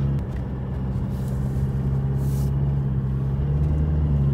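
A car engine idles and rumbles close by in a steady low drone, with a few faint clicks and shifts as the vehicle settles after being driven and parked.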